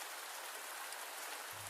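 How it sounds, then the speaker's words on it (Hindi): Heavy rain falls in a steady, even hiss of drops on surfaces, fairly faint and unbroken, with no voices. "तभी रास्ते में अचानक जोरदार बारिश होने लगती है।"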